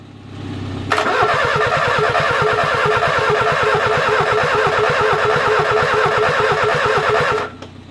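A Renault 10 engine cranks briefly and catches, then runs at a loud, steady, throbbing idle with a rapid pulsing beat for several seconds before cutting off abruptly.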